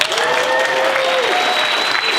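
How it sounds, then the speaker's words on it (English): A keynote audience at an entrepreneur conference claps steadily and loudly throughout, with a few whoops rising over the dense applause. "Can we give them a round of applause?"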